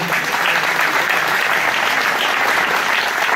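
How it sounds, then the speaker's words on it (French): Dense, steady crowd applause for the municipal police at an outdoor public gathering, loud and continuous throughout the short stretch. "je vous demanderai également de les applaudir chaleureusement"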